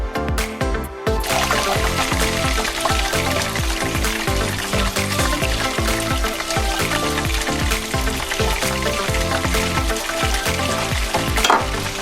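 Onions fry loudly in a skillet with a continuous close sizzle and crackle, with repeated stirring scrapes throughout.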